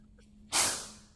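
A single sharp cough bursts out from a nearby person during a game review, a sudden loud hit that fades away over about half a second, with no other sound around it.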